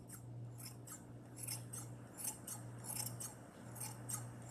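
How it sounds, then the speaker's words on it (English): Scissors snip repeatedly at a yarn pom-pom in quick, faint close cuts over a steady low hum, with no voices. "you're just gonna essentially trim the pom-pom until it's even all over"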